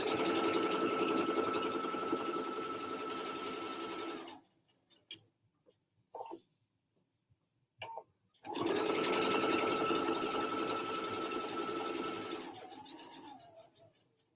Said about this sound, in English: So I'm just stitching right along the edge of this foam.